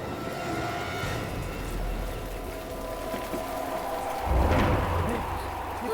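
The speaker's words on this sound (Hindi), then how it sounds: "ये तूफान कैसा?" Storm wind and steady rain wash across a graveyard in a horror drama, with a low thunder rumble swelling near the end; continuous and moderately loud, no talk over it.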